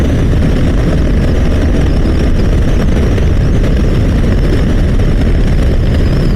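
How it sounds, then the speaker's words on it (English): A motorcycle cruises at about 100 km/h on a road, recorded from the rider with an action camera, giving a loud, constant roar of wind and engine rumble with no change and no talk. "let me just take my motorcycle till 100 kmph and see how the recording will be at those cruising speeds"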